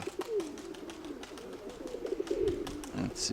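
Pigeons, domestic racing birds, coo in low, throaty rolling calls through a steady stretch, close by, with some faint background voice activity.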